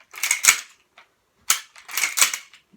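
Spring-powered Apple Airsoft M1887 T2 shell-ejecting lever-action replica shotgun, cycled and fired indoors: sharp clacking bursts of mechanical action and shots, two clusters about a second and a half apart with a brief click between.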